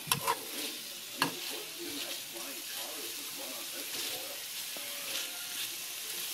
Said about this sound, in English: just make sure we get the onions more sauteed and cooked